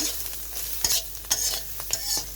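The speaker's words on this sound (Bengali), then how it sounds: "আবার একটু নাড়াচাড়া করে মিশিয়ে নেব" Onions and bata fish sizzle in a hot pan while a utensil stirs and scrapes in several quick, sharp strokes, close and clear.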